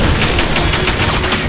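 Rapid gunfire in a Command & Conquer motion comic, a loud, dense burst of evenly spaced automatic shots that continues without pause and has no talk over it.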